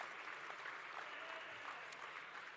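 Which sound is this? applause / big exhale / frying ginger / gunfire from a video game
applause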